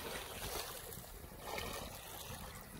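Floodwater waves rushing and churning at Mangla Dam near Dadyal, where the flood has reached village houses: a steady, broad wash of surging water with wind buffeting the microphone, continuous and fairly loud throughout.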